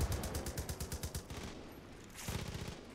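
Heavy machine gun fire in Far Cry 5 co-op play: two sustained bursts of rapid, evenly spaced shots, the first running about a second and a half, a brief lull, then a second burst, loud and close.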